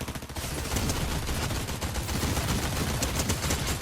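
Dense, continuous gunfire from the Fortnite video game, rapid overlapping shots in a steady loud barrage with no talk over it.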